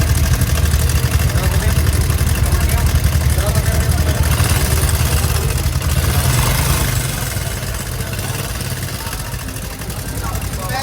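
Fuel-injected Honda Revo motorcycle with a sewing-machine-like rattle runs at a loud, close, steady idle, a fast mechanical chatter over a low engine drone, with someone talking over it.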